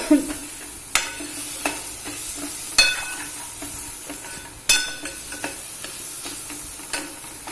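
Onions and masala sizzle steadily in a pan on lowered heat for Koli lal dal, with a constant frying hiss broken by several sharp spoon stirs and scrapes against the pan.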